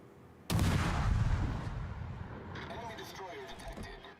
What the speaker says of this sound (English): Fire on the enemy warship.